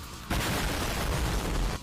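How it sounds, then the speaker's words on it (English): A sustained, dense roaring blast from the Aspect of Lucifer gun in the video game Hades starts abruptly, holds as a loud broadband rumble for about a second and a half, then cuts off. "this thing has a massive explosion"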